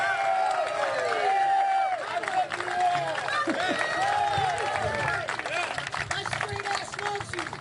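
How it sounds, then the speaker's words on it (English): Applause and cheering from a crowd at a political speaking event in Cleveland, a dense sustained clatter of many hands with whoops, under a voice talking over it. "Round of applause for Kenneth."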